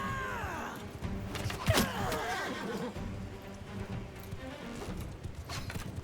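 Horse hooves clopping in the medieval battle game Mount & Blade II Bannerlord, mixed with a whinny and layered game ambience and clatter, moderately loud and continuous throughout.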